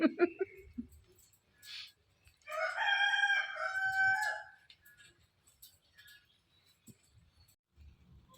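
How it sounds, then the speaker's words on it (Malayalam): A village rooster lets out one long, loud crow in the middle of the clip, rising and drawn out, with brief bits of nearby talk and household noise before and after. "നമ്മളിവിടെ എന്തെങ്കിലും പറയുമ്പോൾ കോഴി അതിനേക്കാളും വലിയ ഒച്ച പാട്ട് പാടും."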